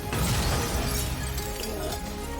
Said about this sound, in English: even makes the flame so big, it shatters the crystal